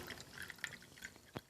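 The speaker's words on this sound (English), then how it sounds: "pouring in some green water" Green water pours through a Brita filter, heard as faint, scattered drips and small splashes with one sharper drop near the end, quiet and close.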